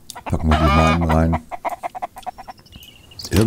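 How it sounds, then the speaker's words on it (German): Chickens in the survival video game MIST Survival cluck and squawk nearby, a long loud squawk followed by a run of short clucks, then another squawk at the end. "Irgendwann nerven die Hühner aber, glaube ich."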